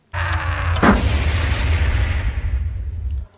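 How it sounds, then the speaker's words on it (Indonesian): A single loud grenade blast erupts with a sharp crack, then a long rumbling roar that fades out over a few seconds. "Ia pun meledak dengan granat yang berada di tangannya tersebut."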